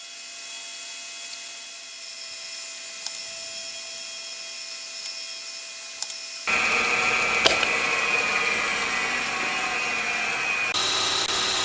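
A center drill cuts screw holes in a motorcycle cylinder head being machined for a four-cylinder Honda Monkey engine, giving a steady whirring machine drone that becomes louder and harsher partway through.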